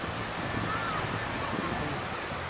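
Sea surf at a beach resort, a steady broadband wash of waves mixed with wind buffeting on the microphone, constant and moderately loud throughout.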